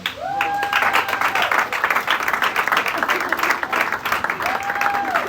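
Dense applause from an audience at a diploma ceremony in a theatre, loud and steady throughout, with a whistle-like tone and cheering voices rising over the clapping.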